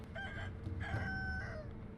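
A rooster crows in the video game Sekiro: one drawn-out, harmonic cock-a-doodle-doo lasting about two seconds, clear and fairly close over a low background rumble.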